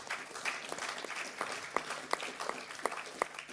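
An audience at a discussion on Europe applauds three debaters. Scattered, distinct claps stand out over a faint background of clapping, heard quietly and at a distance with no voices.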